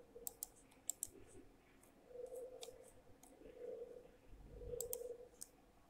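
Quiet computer mouse clicks come in short bursts while laying out a regulator symbol and footprint in Eagle PCB design software, with faint low hums between the clicks and no speech.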